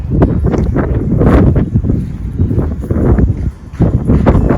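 Loud wind buffeting the microphone in rough, rumbling gusts, with no talking.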